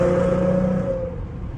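A V6 Ford Mustang engine revs steadily with a low droning hum as it accelerates, loud and close, easing off slightly toward the end.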